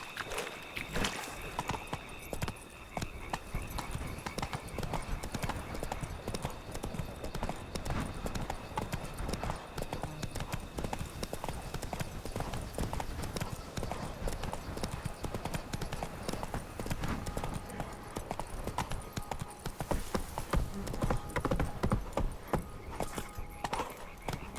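Roach, Geralt's horse in The Witcher 3, trots steadily with a continuous rhythmic clip-clop of hooves throughout, close and loud over a dense ambient game backdrop, with a brief jangle of tack now and then.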